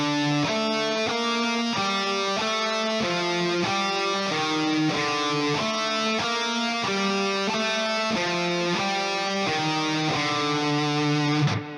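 A distorted electric guitar plays a dark metal lead melody, a steady run of sharply picked notes, loud and close, with no talking.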